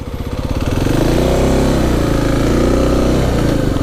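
A Kawasaki KLX300sm single-cylinder motorcycle engine runs loud and close while riding, a steady throbbing drone that builds slightly at first and then holds, with no talking.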